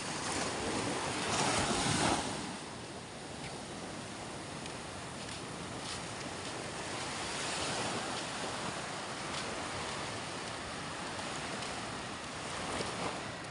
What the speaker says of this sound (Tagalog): At ito pa ang aming alon ng Bukana